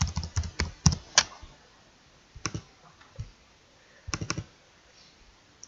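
Clusters of quick, close keyboard taps and mouse clicks at a computer running Excel, arriving in short bursts separated by quiet pauses, with no talking.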